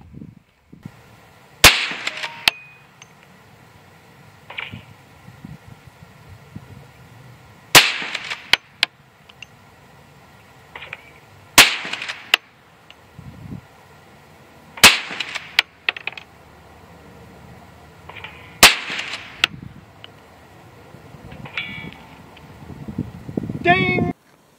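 A Marlin 1894 .357 Magnum carbine fires cast lead bullets at a steel gong about 500 yards away, giving sharp, loud reports spaced several seconds apart, each followed by a faint ring, while someone talks between shots.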